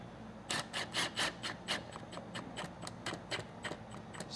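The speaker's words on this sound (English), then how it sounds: "just screw this guy a little bit in there, just enough so it won't fall on you" A screw is turned by hand into a sensor mounting inside a walk-in cooler, making a string of soft, irregular ticking and rasping clicks up close, quiet and unaccompanied by talk.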